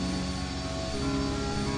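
Steady droning engine hum from the machinery in the game I Have No Mouth And I Must Scream, engines powered by caged creatures' brains, a constant loud mechanical rumble with layered tonal whine throughout.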